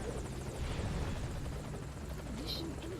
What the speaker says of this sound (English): Morpho's my helicopter.